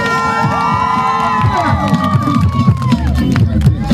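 A loud crowd at a breakdance championship in Sukhum cheering, whooping and shouting close by, with excited voices calling out over the noise.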